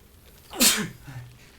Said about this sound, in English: Oh, I'm gonna sneeze, guys.